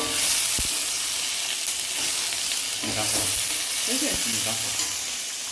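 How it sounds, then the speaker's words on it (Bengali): Loud, steady sizzling of vegetables frying in a hot pan on high flame over a large gas burner, with occasional stirring clatter and faint voices underneath. "হাই ফ্লেমে ভাজতে হবে।"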